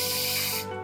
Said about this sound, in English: I'm gonna spray onto the tip of the palette knife